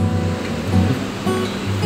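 Flooded river rushing below a waterfall, a loud continuous roar of churning water that fills the whole clip without a break and with no voices.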